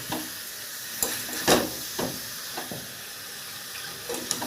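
Water goes into fried masala in a pan for a jackfruit and small prawn curry, and a hissing sizzle follows, broken by several sharp splashes and stirring clatters, close and unvoiced.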